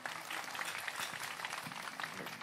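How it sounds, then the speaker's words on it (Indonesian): Audience applause at an Indonesian religious gathering with Gus Iqdam, a dense, even burst of many hands clapping, faint and distant, filling the whole short stretch without talk. "Tepuk tangan buat Ozil."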